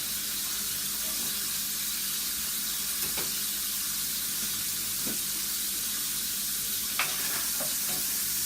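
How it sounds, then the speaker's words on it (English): A steady, hissing sizzle of onions frying in a hot pan, continuous throughout with a few faint clicks and stirring sounds. "when the hot starts bubbling up, add your onions."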